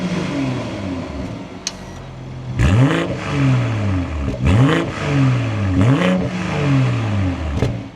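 The engine of a 2025 BMW M240i is running and gets blipped several times. Each rev rises and falls in a rhythmic sweep of loud, close exhaust sound over a steady idle.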